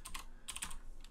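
A computer keyboard is tapped as an address is typed, a quick burst of a few close, crisp key clicks in a short cluster with no talk.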